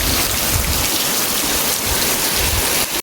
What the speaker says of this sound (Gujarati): ઉપરથી જો નેવા આવે છે અને અહીંયા પાણી પડે છે.